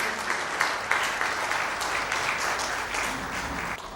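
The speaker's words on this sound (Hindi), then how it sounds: "ज़ोरदार तालियों के साथ स्वागत करिए" Sustained applause from a seated audience welcoming guests at a book event in Jaipur, a steady wash of many hands clapping at even strength from start to finish.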